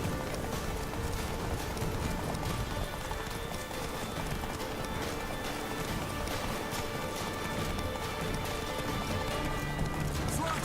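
Roach, a horse in The Witcher 3 on Xbox One X, gallops in a steady, continuous clip-clop of hooves that runs the whole way under a busy game soundscape, with an occasional whinny.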